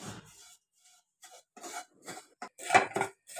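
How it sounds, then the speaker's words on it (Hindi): Dry vermicelli is roasted in a pan for Eid kimami sevai, heard as short, sparse scraping and clinking bursts of a spatula against the pan, close and fairly quiet, with near-silent gaps between strokes. "सेवई भून ले रहे हैं, भुना रहे हैं सेवई, जब तक गोल्डन ना हो जाए तब तक भूनना है।"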